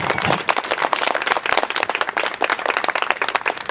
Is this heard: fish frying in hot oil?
no